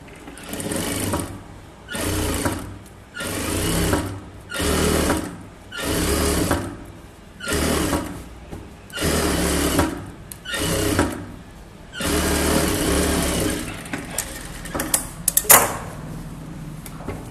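A sewing machine stitching a chudithar top runs in about nine short rhythmic bursts of rapid mechanical whirring with brief pauses between, then a longer run ending in a few clicks and clatters, close and loud.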